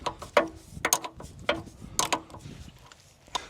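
A wrench on a loose fitting gives a run of sharp metallic clicks and clacks, irregular and fairly close, spaced across a few seconds with no talk.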